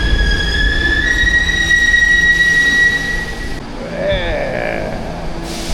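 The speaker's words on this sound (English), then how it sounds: "How about a ride on the subway?" A subway train riding along the tracks, a loud steady rumble with high metallic wheel squeals that fade midway, then a softer rolling sound with brief squeaks.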